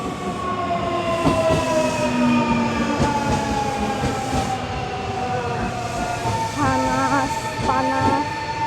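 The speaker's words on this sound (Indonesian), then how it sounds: "Ini kita udah lagi nungguin keretanya datang guys." A train pulling into a station in Japan on a hot summer day, loud and close with a steady rumble, drawn-out squealing brake tones sliding downward, and sharp metallic screeches near the end.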